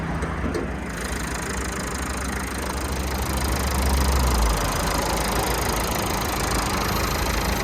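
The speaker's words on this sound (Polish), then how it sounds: "Posłuchajcie jeszcze silnika jak da się przy tym dzisiejszym" A Renault Clio 1.5 dCi diesel engine idling steadily with a low, throbbing rumble, close by and loud, with a faint rise midway and no voices.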